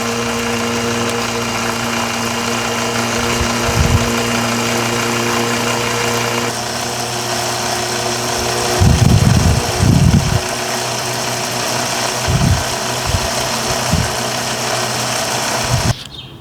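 Fluid extraction pump drawing gear oil out of a rear differential with no drain plug, a steady loud motor hum with intermittent low gurgling bursts as the hose is moved in and out.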